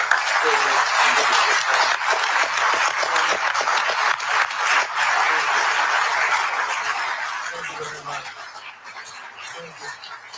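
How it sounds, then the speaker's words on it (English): Audience applause following a political speech, a broad steady wash of clapping that fills the whole clip, loud at first and gradually thinning toward the end. "Would you all say thank you with your applause?"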